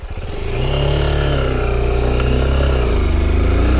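A Honda XR 190 L motorcycle rides off-road, its single-cylinder engine close and loud, a steady pulsing drone rising as it pulls away over rough ground.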